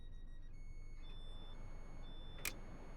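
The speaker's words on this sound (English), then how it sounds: "So you get the hustle alarm now." Hustle alarm on an Azuma train in Train Sim World 4, a series of short faint high electronic beeps over cab hum, ending in a brief sharper burst.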